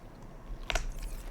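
Eating in the video game Subnautica gives a quick pair of crisp crunching bites followed by one more short crunch, close and fairly quiet over a low background hum.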